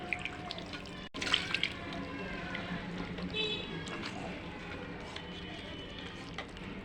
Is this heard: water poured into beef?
yes